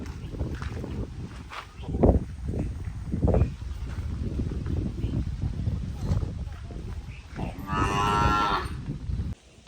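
A calf moos a few times, loud and close, amid outdoor wind noise and people talking nearby.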